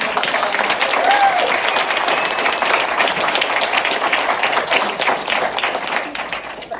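A crowd at a community gathering honoring local heroes claps in a sustained, dense round of applause, loud and close, holding steady for several seconds with a faint voice briefly beneath it.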